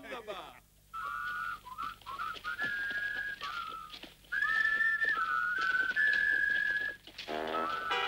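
A person whistles a lilting tune in clear sustained notes with slides between pitches, close by, with faint background noise, in the cartoon Lucky Luke.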